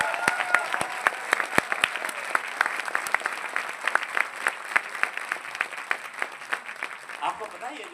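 Seminar audience clapping in a hall, a steady patter of many hands with sharp individual claps standing out, sustained throughout and easing slightly toward the end.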